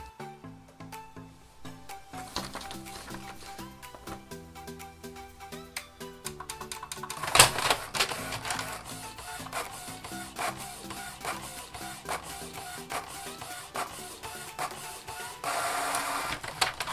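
A home inkjet printer prints a page unobstructed, with its print head carriage whirring back and forth in a series of rhythmic mechanical passes, clicks and paper-feed roller noises, close and clear with no talk.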